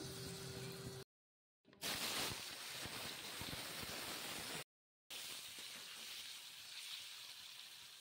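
Paneer frying in a little salted oil makes a steady broadband hiss. It cuts out abruptly twice, then resumes at a similar level.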